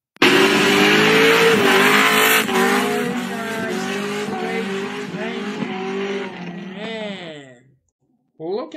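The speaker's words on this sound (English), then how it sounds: "Look at this acceleration and speed. Amazing donuts for Lamborghini." A Lamborghini accelerating and spinning donuts, its engine roaring loud and close with rising and falling revs and tire squeal for most of the stretch, then cutting off briefly before a short final burst.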